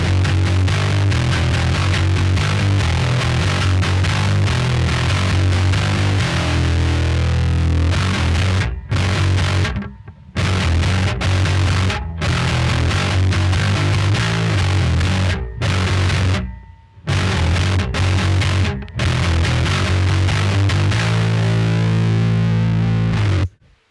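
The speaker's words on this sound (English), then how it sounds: "it's like a meaty amount of distortion going on with that ability to keep it grindy" An electric bass runs through a pink Thrashmaster distortion pedal, playing loud, thick, grinding riffs with heavy low end, broken by several short sharp stops and restarts.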